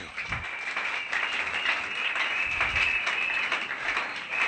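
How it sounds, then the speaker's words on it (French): A church congregation applauds loudly and steadily after the preacher calls for acclamation, dense clapping filling the space without a break and no clear speech over it. "Acclamons très fort."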